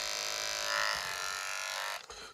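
A cordless Philips hair clipper motor runs with a steady, close electric buzz that rises slightly, then falters as the weak battery drops the speed near the end.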